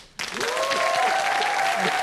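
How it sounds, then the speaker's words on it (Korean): Sustained applause from a lecture audience starts abruptly after a brief quiet moment and continues steadily at full loudness, a dense wash of clapping hands. "한 번 더 박수를 크게 쳐주세요"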